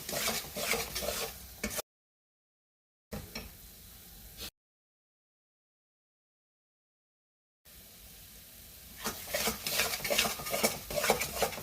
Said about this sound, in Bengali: একটু মিডিয়াম ভাবে আস্তে আস্তে কষালে কিন্তু মশলাটা থেকে তেলটা ছাড়বে